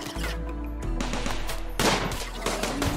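Turret gunfire in RimWorld during an insect infestation, a dense continuous clatter of rapid shots with sharp bursts throughout, loud and busy, with no speech over it.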